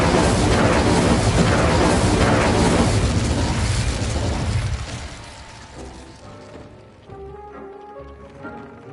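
A fire spell cast in Hogwarts Legacy on PS5 bursts out as a loud, dense boom with roaring crackle that holds for about five seconds, then drops to a quieter tail with low rumbles and faint tonal game sounds.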